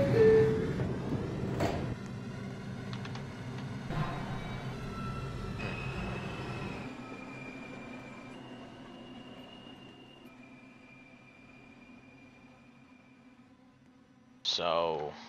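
A subway train in Roblox rumbles and clatters at 49th Street, fading gradually, with a brief metallic squeal near the end and a voice at the start.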